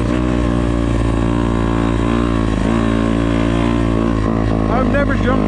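A 2024 Yamaha YZ250F dirt bike on a motocross track, its engine droning loud and steady throughout with pitch shifts as it revs, while a rider talks excitedly over it.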